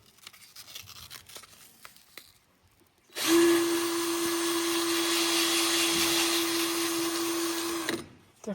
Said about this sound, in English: and then run the drill